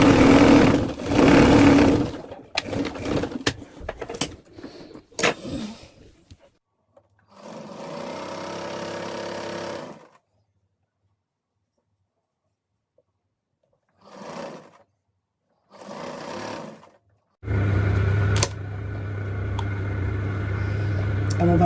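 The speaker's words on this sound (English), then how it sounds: "I'm overlocking the bottom of the leg." An overlock sewing machine hems the bottom of a trouser leg in several separate bursts of rapid mechanical whirring. Between the runs there are quick stops and stretches of silence.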